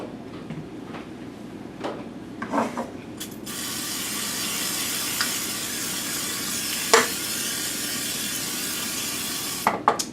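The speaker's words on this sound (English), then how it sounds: "oil the pan with some vegetable spray or some cooking spray" Cooking spray hisses from an aerosol can onto a 9-inch springform pan in a kitchen. A few soft clicks and taps lead into a long, steady, close spray lasting several seconds, then a final brief burst.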